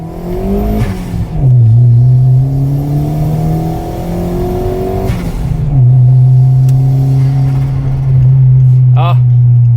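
A turbocharged Ford Figo making about 110 kW revs loudly and close, its engine note climbing in two long pulls with a brief dip between, then settling into a steady high drone that ends with a short blip.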